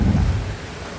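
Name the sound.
heavy rain and thunder outside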